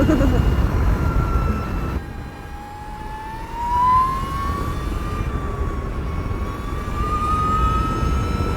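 An Energica Eva Ribelle RS electric motorcycle at full throttle gives a rising, steady motor whine over heavy wind rush, close and continuous for several seconds.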